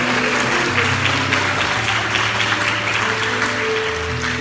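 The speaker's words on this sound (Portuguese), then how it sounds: "Aplauda o nome dele, em nome de Jesus." Church congregation applauding during a sermon, a dense continuous roar of clapping over a low hum of instruments or sound system, loud and steady throughout.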